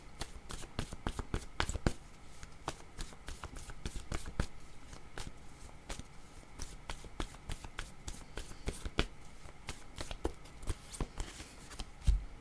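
Oracle cards shuffled during a card reading, a continuous run of quick papery riffles and snaps close up, steady throughout with a few sharper slaps.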